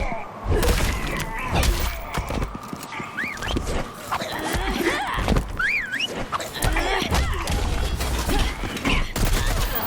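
Deadshot firing his gun in the fighting game Injustice 2, bursts of sharp gunfire amid fight effects, with whining and yelping game voices and impacts throughout.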